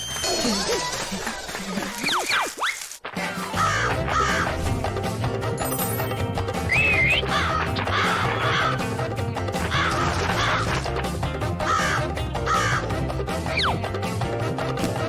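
Crows caw repeatedly in a cartoon, loud harsh calls over busy music and sound effects, with some voices mixed in.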